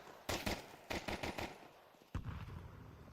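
Glock pistol gunfire in Counter-Strike, rapid bursts of sharp game shots in quick clusters followed by a single louder blast, moderately loud over a faint background.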